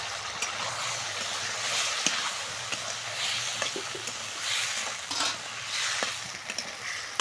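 Potatoes and a small tomato fry and get stirred in an oil-released spice paste, a steady close sizzle broken by scraping stir strokes throughout, with no talking.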